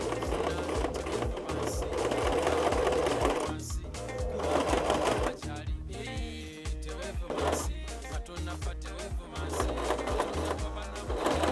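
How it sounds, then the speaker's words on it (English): A sewing machine stitches in fast, rhythmic bursts close by, pausing briefly and restarting several times. "I'm just going to place it onto my sewing machine right here"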